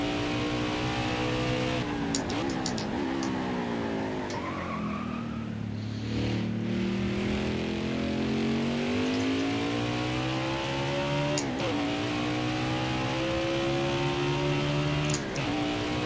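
Race car engine on the Mid-Ohio course in NASCAR Heat 5, a steady droning note that rises and falls as the car accelerates and eases off, with several sharp gear-shift dips and climbs, close and continuous.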